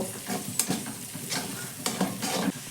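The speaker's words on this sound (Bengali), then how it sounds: "মটরশুঁটি দিয়েও ভালো করে একটু নাড়াচাড়া করে নেব" A green pea stuffing is stirred in a pan with quiet repeated scraping strokes about every half second over a faint, low sizzle.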